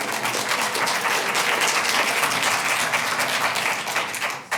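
An audience at a city council meeting claps steadily for a few seconds, a dense patter of many hands that tapers off at the end.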